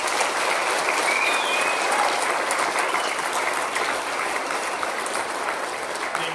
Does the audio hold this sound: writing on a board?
no